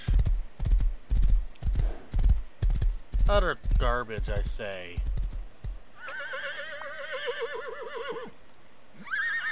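Rhythmic hoofbeats clop steadily, then a video game horse whinnies loudly with a long, wavering neigh; someone speaks briefly over the sounds.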